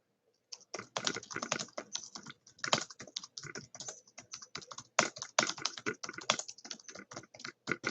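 Rapid typing on a computer keyboard, close and continuous, with clustered clacks and brief pauses between bursts after a moment of silence at the start; nobody speaks.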